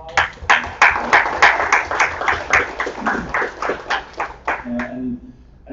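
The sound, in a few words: applause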